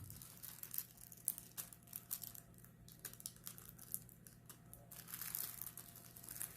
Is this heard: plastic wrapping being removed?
yes